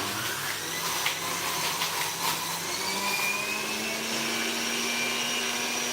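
An electric juicer grinds fresh yam with a steady, loud whirring motor drone, shifting slightly in pitch over a few seconds, close by with no talking.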